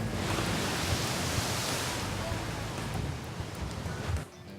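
Rough ocean waves surge and wash steadily around a crab fishing boat as the crew hauls pots, a dense broad roar that drops off near the end.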